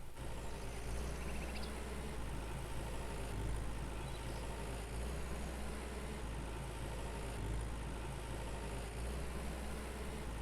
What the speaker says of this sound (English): Does the tractor sound too low?